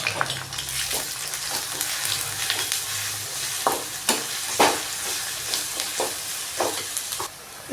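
Onions, curry leaves and ginger-garlic paste sizzle in a hot pan. A spoon scrapes and stirs in irregular strokes, and the bursts of crackle stand out over a constant frying hiss.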